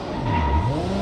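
Tires squealing as a car drifts around a corner in the BeamNG.drive driving game, with sway bars and a roll cage fitted, a short rising-and-falling screech over a steady engine drone, loud and close without talking.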